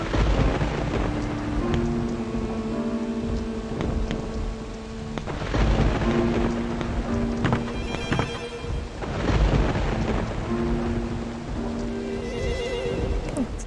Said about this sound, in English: My God, Thunder. Never, it doesn't thunder this frequently.